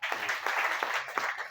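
An audience at a meeting in Haridwar breaks into applause, a brief burst of dense clapping heard at moderate distance for a second and a half.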